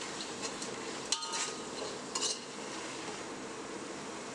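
Ginger garlic paste being mixed in a cooking pan: quiet scraping with a couple of sharp utensil taps against the metal, close and faint.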